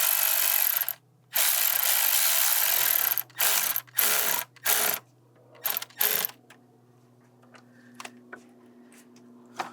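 A hand ratchet tightens a hose clamp on the charge pipe of a 2011-2015 Mini Cooper S, sounding in several fast clicking bursts, first long runs, then short ones with pauses, close and alone.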